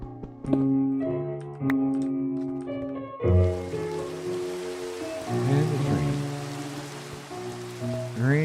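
Steady hiss of rain falling in Minecraft, with layered tones and synth-like notes over it at first; the rain swells in and continues softly and evenly with no talking.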